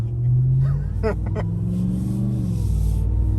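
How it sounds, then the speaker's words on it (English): A supercharged Hemi V8 in a 2021 Ram 1500 TRX pickup rumbles steadily close by, with a rising supercharger whine that spools up and holds over the deep engine drone. "So you can hear the supercharger spooling pretty nicely in here."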